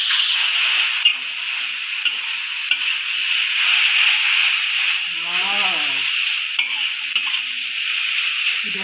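Cooking oil sizzles steadily in a hot pan while instant noodles are being made, a loud continuous hiss with faint clinks and a brief chirping sound partway through.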